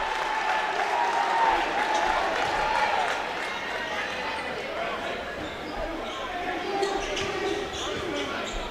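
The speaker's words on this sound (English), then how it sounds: "And the crowd loving it." A college basketball arena crowd roars and cheers steadily, with a commentator talking over the noise and a few sharp bounces and squeaks mixed in.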